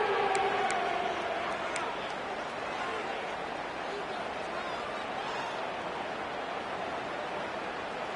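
A stadium crowd roars steadily at a college football game between Ole Miss and the Florida Gators on a third-down play, a loud, dense, sustained wall of cheering and noise with no break across the stretch.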